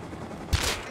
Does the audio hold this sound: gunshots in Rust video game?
yes